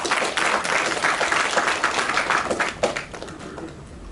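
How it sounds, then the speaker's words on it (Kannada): Audience at a press event for the Kannada movie Pranayam claps in a dense, sustained round of applause that tapers slightly toward the end. "ಸ್ವಲ್ಪ ಜೋರಾಗಿ ಬರಲಿ ಚಪ್ಪಾಳೆ"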